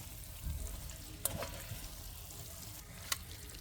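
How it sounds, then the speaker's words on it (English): Meat is stirred back into a cooking pot, with a quiet, low sizzle and a couple of sharp utensil scrapes against the pot. "Now into this, we're going to put our meat back in. Get a nice mix."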